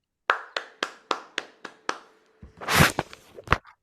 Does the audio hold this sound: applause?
yes